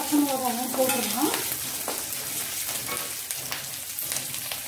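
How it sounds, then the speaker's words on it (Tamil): Dried red and green chillies sizzle and fry with dal in a hot pan, a steady close crackle with occasional stirring scrapes, no talk over it. "இப்போ வந்து எடுத்து வச்சுருக்க காஞ்ச மிளகாவும் பச்சை மிளகாவும் போட்டுடலாம்."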